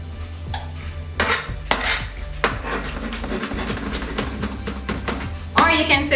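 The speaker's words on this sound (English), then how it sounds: "You can set your knife like this and just chop them." A knife chops smashed garlic on a cutting board, giving a run of quick, uneven wooden taps and knocks under a person talking.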